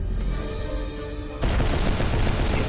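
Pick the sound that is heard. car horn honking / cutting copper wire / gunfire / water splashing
gunfire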